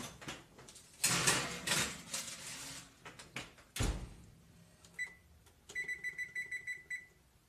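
A cookie sheet of hot chocolate cookies slides into a home oven with some rustling and clatter, then the oven door shuts with a solid thud, followed by a series of short electronic beeps from the oven.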